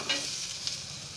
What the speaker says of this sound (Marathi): अशा प्रकारे मी मसाला भाजून घेतलेला आहे